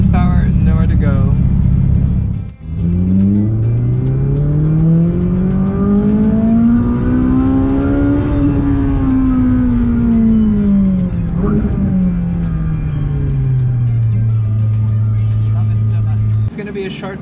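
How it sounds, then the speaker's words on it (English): A 458 Speciale's naturally aspirated Ferrari engine cuts out briefly, then surges in a long, loud, rising wail that peaks and winds gradually back down to a steady lower drone. "bring the car up to third gear so you guys can hear the naturally aspirated motor"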